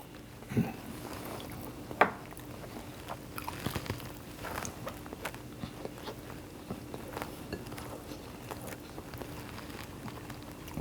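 Tater tots being chewed during a burger mukbang, close and quiet, with soft irregular bites and crunches spread through the clip and one sharper crunch early on.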